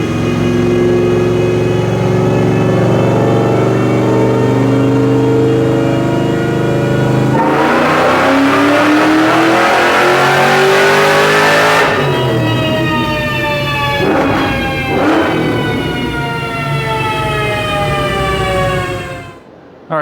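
A supercharged Cobra's engine on a dyno roller, loud and sustained, with a steady harmonic whine that climbs in pitch through a hard run, then drops off and flares briefly before cutting out near the end.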